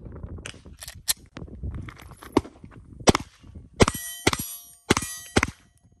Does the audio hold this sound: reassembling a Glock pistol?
yes